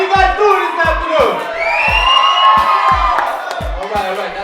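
A high school assembly crowd cheers and shouts loudly, whoops and children's yells rising together in a sustained roar, with a steady thumping beat underneath.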